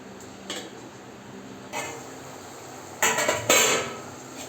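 Soaked rice tipped into a pot of hot water while making chicken biryani: quiet metal clinks of a pot and utensil, then a louder clattering pour and scrape near the end, close by.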